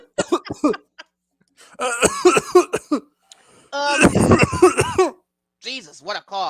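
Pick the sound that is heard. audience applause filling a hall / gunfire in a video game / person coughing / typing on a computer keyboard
person coughing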